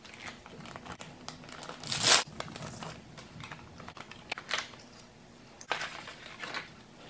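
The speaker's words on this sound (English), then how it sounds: "let's go ahead and unwrap this and take all these out" Plastic packaging of an abs stimulator kit crinkles and rustles as it is unwrapped, with one loud crumpling burst and several smaller crackles and tears nearby.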